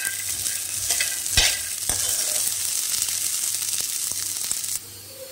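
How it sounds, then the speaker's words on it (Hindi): Black chana dry-roasting in a pan without oil gives a steady dry hiss and crackle, with a few sharp scrapes and taps of stirring, close and continuous until it drops off at the end. "जिसको हम उसी पैन में बिना ऑयल के भूनेंगे"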